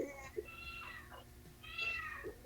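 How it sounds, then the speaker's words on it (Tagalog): Cat meowing in a quiet room, two drawn-out, faint meows a moment apart, with a soft voice murmuring nearby. "May pusa."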